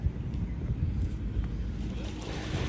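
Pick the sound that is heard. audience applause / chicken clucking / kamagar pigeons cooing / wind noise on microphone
wind noise on microphone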